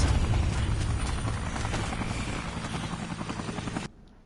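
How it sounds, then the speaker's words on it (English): Sustained loud rotor thump and engine roar of a military helicopter in the Dead Rising video game, hovering near and steady for about four seconds before cutting off abruptly. "now there's a military helicopter right there, shooting missiles at us."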